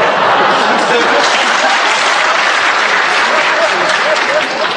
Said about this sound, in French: cette constatation applaudie comme vous l'entendez